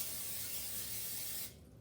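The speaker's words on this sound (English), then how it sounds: "you want to make sure to coat it heavily with some cooking spray" Cooking spray hisses in one steady, close burst as a baking dish for breaded chicken gets a heavy coating, stopping abruptly after about a second and a half.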